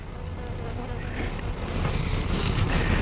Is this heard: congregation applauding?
no